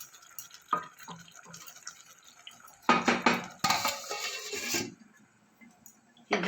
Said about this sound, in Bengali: এবার একটু ঢাকা চাপা দিয়ে দেবো।